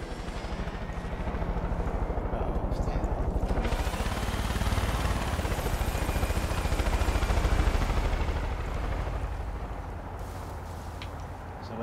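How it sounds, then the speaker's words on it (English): Helicopter in the video game Far Cry 5, a continuous thudding rotor roar that swells and recedes over several seconds, loud and unbroken, with no talk. "Somebody took the helicopter."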